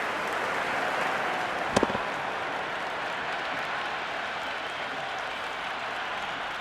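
A cricket stadium crowd applauds a six in an MI versus CSK match, a broad steady wash of clapping and cheering with one sharp bang near the start.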